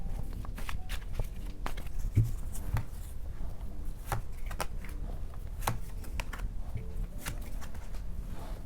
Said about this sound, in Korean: 그리고 다른 종류의 카드도 뽑아볼게요.